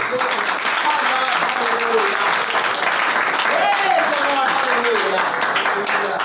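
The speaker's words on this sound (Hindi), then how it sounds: "ताली बजाओ खुदा के जलाल के लिए" A church congregation claps steadily for several seconds during a Hindi-Urdu sermon at a Murree seminar. The applause is dense and even, with a raised voice carrying over it.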